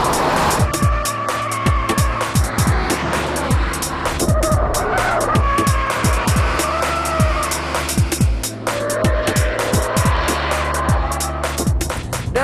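Subaru Impreza WRX driven hard on a damp race circuit, heard from onboard as a loud engine that revs up and drops repeatedly through gear changes, with sustained road and tyre roar throughout.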